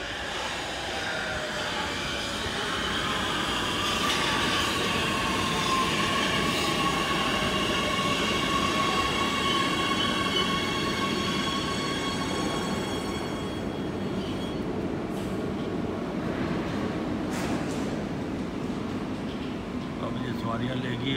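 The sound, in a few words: metro train arriving at a station in Oslo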